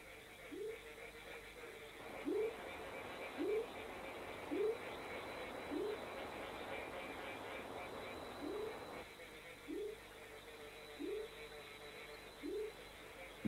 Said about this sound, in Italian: Le rane arboricole, da quelle piccole come una fava a quelle grandi come un avogado, si radunano intorno agli stagni per deporre le uova.